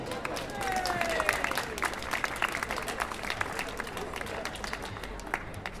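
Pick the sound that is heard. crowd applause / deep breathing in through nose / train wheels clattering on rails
crowd applause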